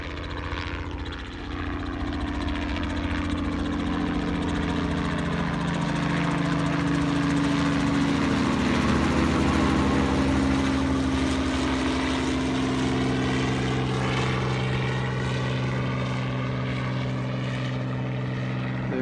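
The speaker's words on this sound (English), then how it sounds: "That is a piston airplane with a really long drive shaft too." A piston-engine airplane with a long drive shaft departs toward the west right overhead, its loud, steady propeller drone swelling as it passes close by and holding strong for the whole stretch, with no talk.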